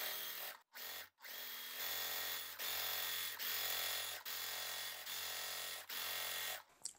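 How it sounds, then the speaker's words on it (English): A sewing machine stitches quilt block pieces together, its motor whirring in several steady runs of about a second each, separated by brief pauses, with a short stop-and-start near the beginning. "I'm just going to sew 4 onto this side and then 4 onto this side"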